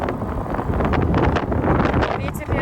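Strong gusty wind buffets the microphone outdoors in Turkey, a loud continuous roar with rustling, while a person talks over it.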